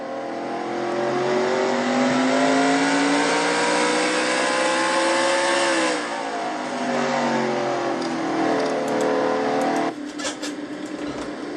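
A race truck's engine revs hard toward 9,500 RPM, a sustained loud roar that rises and holds, dips, then climbs again before a sharp shift near the end.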